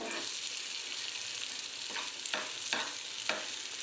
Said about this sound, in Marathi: हे सगळं मिश्रण मी आता त्या बॅटनमध्ये मिक्स करणार आहे